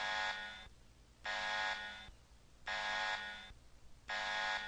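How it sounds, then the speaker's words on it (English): A loud electronic alarm howls in an audio drama, blaring in long repeated bursts of roughly a second each, separated by short gaps, with no talking over it. "With the alarm howling like this, it won't be too long before we attract some unwanted attention"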